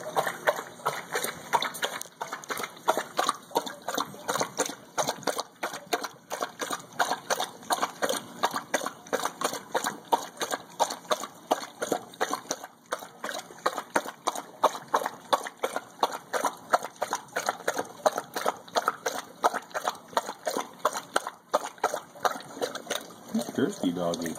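Charlie, a dog just back from a walk, laps water from a bowl in a quick, steady rhythm that continues without pause for over twenty seconds. The wet slurps are close, and each stroke is distinct.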